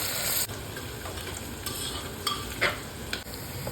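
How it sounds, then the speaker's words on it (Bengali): Onions lightly frying in a little oil for a chicken stew, a steady close sizzle broken by a few distinct scraping stirs, with no talking. "প্রথমে পেঁয়াজটা দিলাম একটু হালকা ভাজা হবে"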